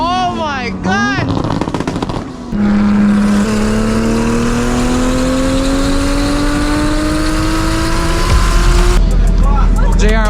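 An SRT Hellcat races a 1000hp Toyota Supra at night, heard from inside the car: sharp engine revs and pops, then a long rising supercharged whine as it accelerates hard, with a voice talking over the start.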